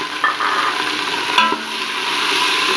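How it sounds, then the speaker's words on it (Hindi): Chicken fries in a pan with browned onions, giving a crackling sizzle with a few sharp stirring clicks and scrapes near the start and middle, close and fairly loud. "अब चिकन को खूब अच्छे से फ्राई करूँगी"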